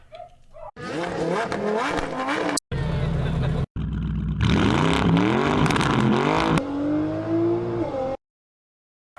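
Sampled race car sounds cut into a breakbeat, with loud revving engines, rising pitch sweeps and tire squeals arranged in abrupt blocks separated by short silences.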